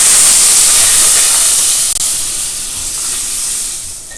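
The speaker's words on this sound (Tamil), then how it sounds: "இங்கே வந்து இந்த அடுப்பில் என்ன பண்ணியிருக்கேன்னா இந்த வெண்ணெயை போட்டுருவேன்." Butter sizzles in a pan on a stove, heating before semolina is added: a loud, close, steady hiss fills the whole stretch and eases off slightly toward the end.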